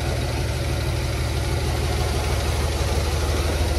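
A 1946 Chevrolet Fleetmaster's 76-year-old engine, fed from a makeshift gravity tank, idles in a steady, smooth low drone that stays even and unbroken throughout, with no voices over it.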